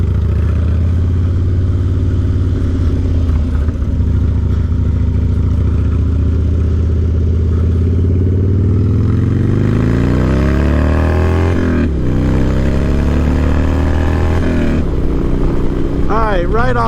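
A Harley-Davidson Dyna motorcycle fitted with a crash bar is ridden, its loud, low engine drone building and rising in pitch through the revs, with a brief shift dip and a voice over it.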